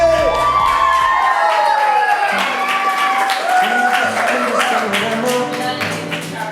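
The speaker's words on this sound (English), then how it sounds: "Please put your hands together and give a big warm round of applause for Michelle and Kyle for the first dance of" A wedding crowd claps and cheers loudly with whoops for the first dance, sustained throughout, while music with a melodic line plays alongside.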